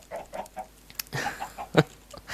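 Several short clucks from a few Minecraft chickens, spaced irregularly, with one louder squawk near the end; fairly close and clear.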